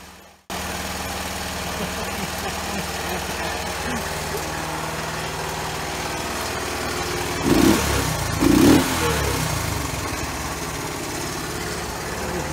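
A 50-year-old Honda US90 three-wheeler catches and settles into a steady, rough small-engine idle, with a couple of short bursts of throttle midway and a person speaking over it.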